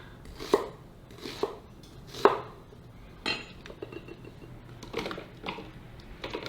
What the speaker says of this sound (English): let's roughly chop the onion